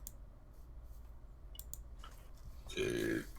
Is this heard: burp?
yes